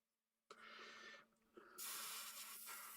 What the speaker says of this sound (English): I'm spraying away from the edge of the tape